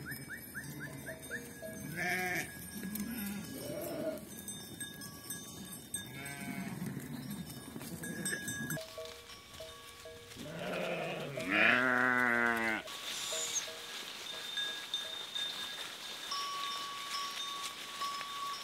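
A flock of sheep bleating repeatedly as they set off to graze in hazelnut orchards, several overlapping calls near and far, with a cowbell clinking and rustling farmyard noise throughout.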